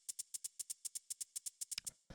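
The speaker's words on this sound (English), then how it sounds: "So the next thing that I have here is this little small shaker sample" A small shaker sample, a quick even run of about fifteen soft crisp shakes with a slight flam near the end, then one last lower rattle, faint and isolated.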